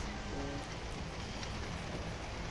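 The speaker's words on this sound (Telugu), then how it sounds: "చూడు ఎంత పెద్ద వర్షము" Heavy rain pouring down steadily outdoors, a dense, even hiss that fills the whole clip with no voices.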